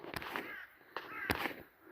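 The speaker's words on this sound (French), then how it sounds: "Et les fameux corbeaux qui sont là." A few harsh crow caws ring out at intervals, moderately distant, against a quiet outdoor background.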